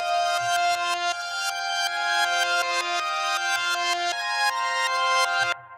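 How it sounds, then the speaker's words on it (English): A bell pattern, time-stretched, reversed and heavily processed with effects, plays as a dense, sustained ringing texture with repeated swelling tones. "then sped it up by time stretching it and then just adding a ton of effects and reversing it"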